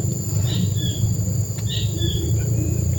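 Birds call in short bright chirps and whistles over a steady insect and cricket drone in a forest, fairly close and with no talking.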